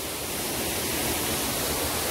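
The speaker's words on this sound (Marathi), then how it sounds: "धबधबा मस्तपैकी." A hidden waterfall in Konkan, set between walls of laterite stone, pours in a steady, dense roar that fills the whole stretch without a break, close and loud, with no voices over it.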